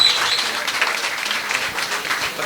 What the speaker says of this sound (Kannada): ಒಂದು ಜೋರಾದ ಚಪ್ಪಾಳೆಯ ಮೂಲಕ ಕೃತಜ್ಞತೆಯನ್ನು ಸಲ್ಲಿಕೆ ಮಾಡಬೇಕು ಅಂತ ಕೇಳಿಕೊಳ್ತಾ ಇದ್ದೇನೆ